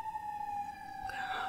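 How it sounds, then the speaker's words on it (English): A steady siren wail, fairly faint and distant, holds a single pitch before rising slightly near the end, with no talking. "I can't record a podcast without the sirens going."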